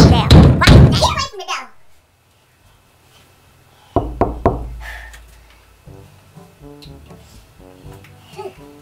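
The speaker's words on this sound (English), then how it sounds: "I'm ready to kick your door down." A door being banged and kicked: a spoken voice at first, then after a pause a cluster of heavy thumps and knocks, followed by quieter rhythmic knocking, fairly close.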